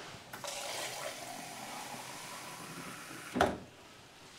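Water runs steadily for about three seconds as it is poured to mix drink powder, ending with a short knock before it goes quiet.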